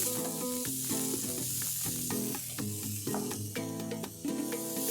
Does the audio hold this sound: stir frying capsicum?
yes